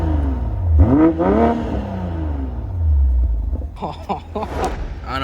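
A BMW 540i with a catless downpipe exhaust revs up close by, producing deep, loud rising and falling engine swells, a few sharp throttle blips, and a low rumble.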